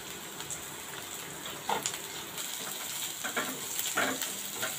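Sliced onion sizzles as it fries in hot oil with ginger and garlic on a low flame, a continuous close frying hiss with a few louder crackles and stirring sounds, and no voices.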